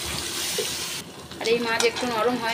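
Spice-washing water poured into a simmering fish curry in a pan, a loud broad rush of liquid that breaks off partway, followed by someone speaking over gentle bubbling.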